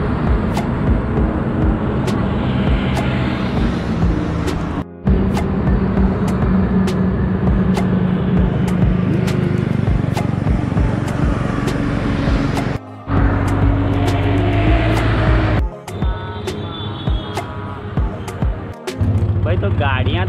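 Road traffic passes by, steady engine and tyre rumble from cars and other vehicles with swells as they go past, while people talk over it nearby.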